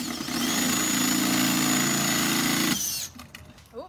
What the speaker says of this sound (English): you can drill through that real easy